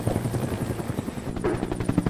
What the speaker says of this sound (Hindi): मिलिट्री हेलीकॉप्टर दोस्तों कार नहीं, देखो दोस्तों हेलीकॉप्टर चल रहा है